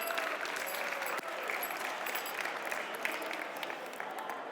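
A magic show audience at DEF CON 30 claps in sustained, dense applause that stays loud and even for several seconds before easing slightly toward the end.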